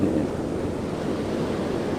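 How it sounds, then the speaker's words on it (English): Big ocean waves break and wash onto a sandy shore in a loud, continuous roar, with wind buffeting the microphone throughout and no talking. "The waves are becoming very big."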